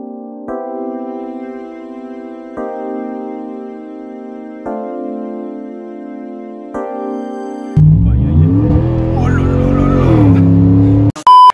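A Dodge Ram 1500 V8 pickup truck rumbles loudly and close as it slides, with a strained engine roar and skidding noise that follows a stretch of steady tonal music.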